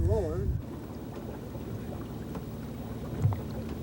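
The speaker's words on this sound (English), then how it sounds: "Motor's dragging again." Small boat motor dragging in the water during a gar pike bow-fishing outing, a steady low churning drone with a brief voice at the start and a soft thump near the end.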